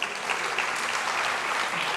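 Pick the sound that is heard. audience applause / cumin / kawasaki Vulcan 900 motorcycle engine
audience applause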